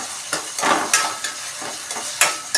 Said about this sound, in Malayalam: നല്ല രീതിയിൽ എണ്ണയിൽ മിക്സ് ചെയ്തിട്ട്